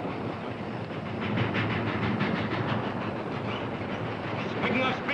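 A steady rumble of a moving train fills the scene, with a faint rhythmic clatter of wheels and a hiss behind it, growing slightly louder as it goes on.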